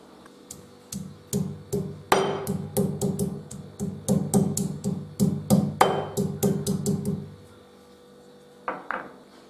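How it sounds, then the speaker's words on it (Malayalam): A piece of ginger being crushed for ginger tea: a run of sharp, rhythmic pounding knocks, close and fairly loud, with a pause and a couple of final knocks at the end. "ഇഞ്ചി ചായക്ക് ഒരു കഷ്ണം ഇഞ്ചി ഇവിടെ എടുത്ത് വെച്ചിട്ടുണ്ട് ഇതൊന്ന് ചതച്ചെടുക്കും"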